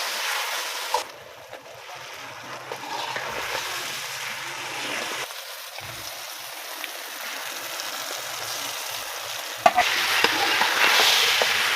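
Okra with tomatoes, turmeric, salt and chili frying in a pan: a continuous hissing sizzle with scraping stirs and clinks, close and moderately loud, with no talking.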